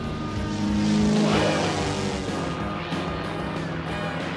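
A cartoon airplane flies overhead, a droning engine roar that swells and sweeps past around the middle with a rising whine, then settles into a steady rumble; no one speaks.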